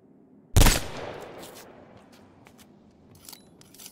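A single sharp, loud gunshot fired at a bear in the video game Dread Hunger cracks out, then fades into a reverberant tail with a few faint clicks afterward.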